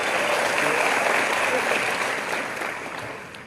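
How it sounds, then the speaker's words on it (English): A large crowd at a youth summit in Morocco breaks into loud, dense applause that holds steady and then gradually fades toward the end. "Please, a big round of applause for Ashraf."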